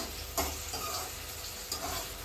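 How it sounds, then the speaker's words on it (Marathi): Finely chopped onion sautés in hot oil with a steady sizzling hiss, and a couple of louder clinks from a spoon stirring the pan. "हा जो एक बारीक चिरलेला कांदा आहे तो आपण टाकून घेणार आणि छान असा परतून घेऊया"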